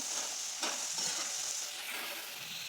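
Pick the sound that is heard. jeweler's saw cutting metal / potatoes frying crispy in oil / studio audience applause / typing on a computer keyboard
potatoes frying crispy in oil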